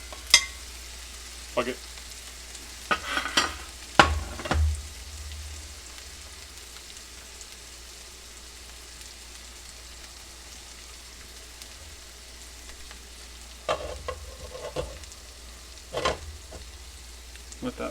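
Onions frying for a Philly cheesesteak: a steady low sizzle runs throughout, broken by occasional sharp clatters and scrapes, with a brief spoken remark near the start.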